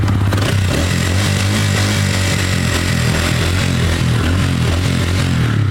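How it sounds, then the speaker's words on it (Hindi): A TVS Ronin 225 motorcycle's engine fires up and settles into a steady, loud, deep thumping idle with a rhythmic low pulse, heard up close with no talking. "तो यहाँ पर गाड़ी को स्टार्ट करेंगे,"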